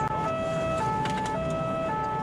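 A SAMU ambulance speeds through the Burgundy countryside between Dijon and Auxerre, its siren wailing continuously and loudly over a steady rumble of road and engine noise, with no one speaking.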